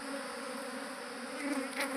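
A swarm of honeybees buzzes in a dense, continuous drone that stays close and steady throughout, with no voices.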